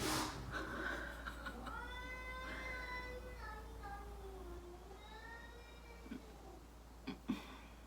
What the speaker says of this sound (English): I hope you can't hear my cats like freaking out in the background